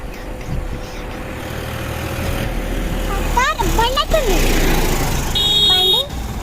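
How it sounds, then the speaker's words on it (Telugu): A tractor passes on a road with a steady low engine rumble that swells as it nears, while a voice speaks over it and a couple of short horn toots ring out. "ట్రాక్టర్ వస్తుంది ట్రాక్టర్ బండి అటో"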